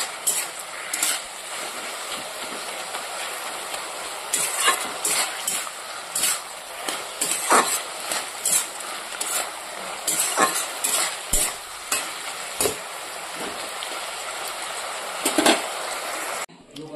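A Bengali chorchori, a mixed vegetable dish, sizzles steadily in a pan while a spoon scrapes and clatters against the metal in irregular strokes, close and fairly loud, with no talking.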